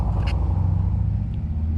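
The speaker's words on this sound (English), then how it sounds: "I don't know who just pulled up right now." A steady low engine rumble from a nearby car idling or rolling up, continuous throughout with no talking.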